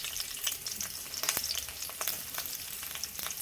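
Garlic and ginger fry in hot oil for veg Manchurian gravy, a continuous crackling sizzle with scattered sharper pops and spatters, close and fairly even throughout, no talking.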